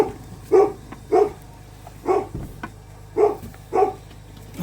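Dogs bark outdoors on a freezing -6 degree morning, about six sharp, evenly spaced barks standing out clearly over a low background hum.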